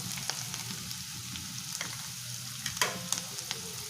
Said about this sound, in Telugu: అల్లం వెల్లుల్లి పేస్ట్ వేసుకొని ఫ్రై చేసుకోవాలి